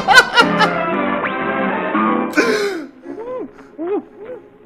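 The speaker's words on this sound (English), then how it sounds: "That man was just coughing." A man in a Looney Tunes cartoon coughs and clears his throat in a few harsh bursts up close, followed by wheezy, sputtering vocal noises.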